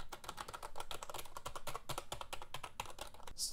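Fast continuous typing on a Redragon K512 Shiva membrane keyboard, a dense run of springy, fairly loud key presses close up with no talking.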